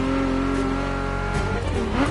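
Interior engine note of a car in The Crew, a loud, steady droning rev with strong harmonic tones that dips briefly and then climbs again near the end.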